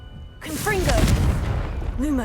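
A Confringo fire spell bursts in Hogwarts Legacy with a sudden booming blast that rumbles and crackles for a couple of seconds, while a voice speaks over it.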